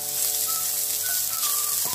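Vegetables and ingredients for puttu kothu frying in a pan, a steady close sizzle over a low hum, with faint tonal squeaks and a brief scrape near the end.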